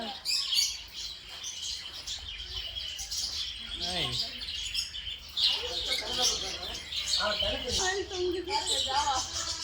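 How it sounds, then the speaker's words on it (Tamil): Lovebirds at an exotic animal park in Pondicherry chirp in rapid, overlapping tweets that run throughout, fairly near, mixed with other bird calls and people talking. "இது லவ் பேர்ட்ஸ்."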